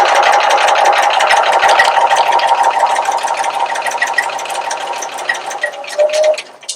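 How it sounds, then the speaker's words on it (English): A sewing machine runs steadily at close range, stitching fabric pieces together for a Y seam, with a continuous rapid mechanical hum and needle rattle that slows and stops near the end. "I want to drop my needle right into the dot, and I'm going to do a little back stitch, just 2 or 3 stitches back."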